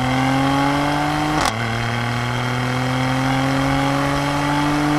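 A 2021 Audi SQ5 with sport exhaust holds a loud, steady engine drone, with a sharp break near the middle where the upshift drops the pitch before the note climbs again.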